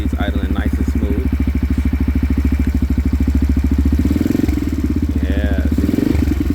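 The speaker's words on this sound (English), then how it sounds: "You can see it's idling nice and smooth." A Yamaha TTR-125 big bore four-stroke dirt bike idles steadily up close with an FMF exhaust, a smooth even putter throughout with a slight rise near the middle.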